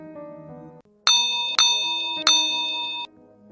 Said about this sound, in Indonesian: Berisik, lonceng joran gua bunyi nih.